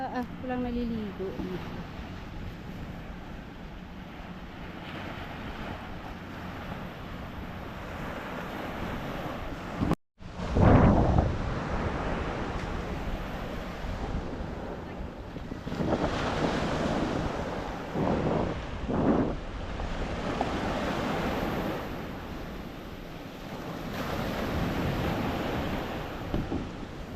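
Strong ocean waves crash on a rocky shore, a constant roar buffeted by wind noise, with louder surges breaking after the midpoint and a voice speaking briefly.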